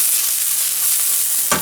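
Garlic and onion frying in a pan with truffle oil, a loud close steady sizzle with a brief stir near the end.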